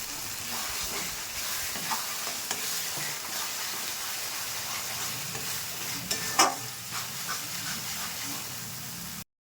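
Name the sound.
masala with red chili powder being stirred and fried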